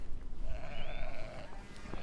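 Goats bleat close by, one long wavering cry that rises in pitch and then tails off, with a brief background rustle.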